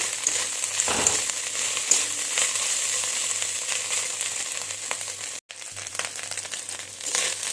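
Small dried shrimp fry in a pan with a steady, close crackling sizzle and a bright hiss that holds throughout, with a brief dropout near the end.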